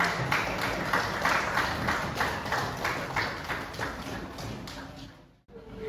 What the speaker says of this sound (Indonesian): Beri aplaus teman-teman.